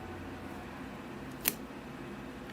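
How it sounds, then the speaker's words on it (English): A single crisp snip of scissors cutting through a jade bonsai stem at soil level, one short sharp click standing alone against a low steady room hum. "So I will come in with my scissors here and just prune it off at the ground level."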